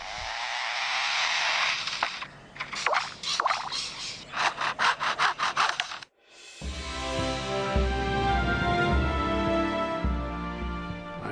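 A lyrebird mimics chainsaws felling its forest home, giving rhythmic rasping sawing bursts and a pulsing cut, a brief silence, then a loud sustained engine-like drone with harmonics, close and with no talk.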